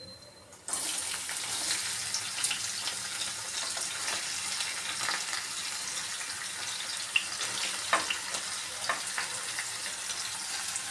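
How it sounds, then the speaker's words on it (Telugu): Onions frying in a pan for chicken kurma start with a sudden hiss, then settle into a steady close sizzle with occasional sharper crackles and pops, no talk. "వేసుకొని మంచి కలర్ వచ్చే వరకు ఫ్రై చేసుకుందాం."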